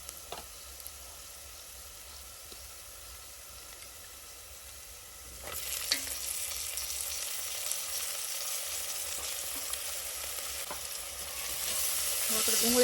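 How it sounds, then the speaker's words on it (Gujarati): Chopped onion tipped into a pan of frying pigeon peas and green peas, a soft sizzle that swells into a louder, steady hiss and keeps rising; no voices. "હવે નાખી દઈએ આપણે આ મળેલી ડુંગળી"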